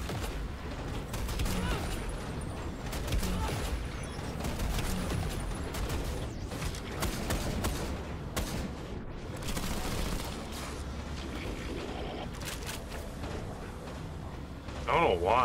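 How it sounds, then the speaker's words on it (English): Robots on platforms firing guns down at the player in SPRAWL: a dense, continuous barrage of rapid gunfire and booming impacts running throughout without a break, with talk mixed in underneath. "Every single robot's on a platform just constantly shooting down at me now"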